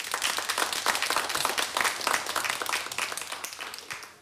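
An audience at a children's show on stage claps in a steady, moderately loud burst that continues for a few seconds.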